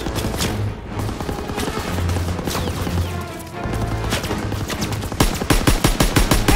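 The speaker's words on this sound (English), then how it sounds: "Gotta suppress the machine gun!" Machine gun fire in a Call of Duty WWII battle on Hill 493, dense continuous bursts under booming explosions and battlefield din, ending in a loud rapid string of close shots.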